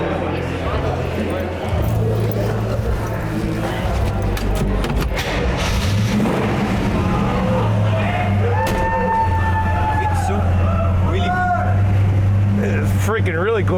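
A 1967 Ford Mustang S-Code engine runs with a low steady rumble while people talk over it nearby, and the car's note stays prominent under the voices.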